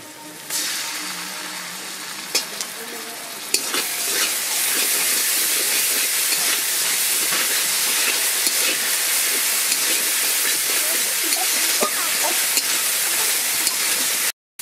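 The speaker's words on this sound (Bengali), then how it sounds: "তো এই যে আমার আদা রসুনটা ভাজা হয়ে গেছে" Ginger garlic paste hits a hot pan with a sudden loud hiss after a few clatters, then settles into a steady, strong sizzle close by that continues until cut off.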